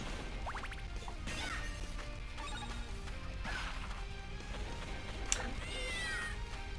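Video-game cat summoned as Maria's attack kitten in Castlevania: The Dracula X Chronicles, several sharp meows and yowls rising over busy game music, with clanging hits and a sudden crash midway.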